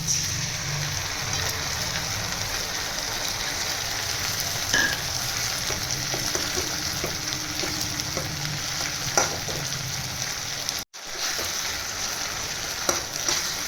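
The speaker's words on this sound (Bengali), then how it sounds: "চিংড়ি মাছ আর পেঁয়াজের সঙ্গে ভালো করে ভাজতে থাকবে" Prawns and onion frying in a pan, a steady close sizzle with stirring scrapes throughout and a brief dropout near the end, no voices.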